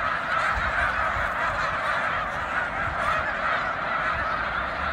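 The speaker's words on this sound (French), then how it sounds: "Mais la balance, c'est les oies blanches." A large flock of snow geese honks constantly, a dense, overlapping chorus of calls filling the air without a break.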